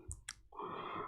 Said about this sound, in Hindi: इस पर क्लिक कर लेते हैं।